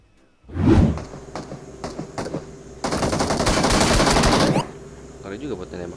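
Rapid automatic gunfire in the PUBG Mobile battle-royale game, a loud opening burst followed by scattered single shots and then a sustained dense volley of several seconds before fading to quieter clatter.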